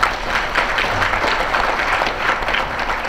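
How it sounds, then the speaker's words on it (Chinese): An audience at a Taiwanese political cabinet meeting applauds, a dense, even patter of many hands clapping at a steady level for a few seconds. "要给大家掌声鼓励一下。"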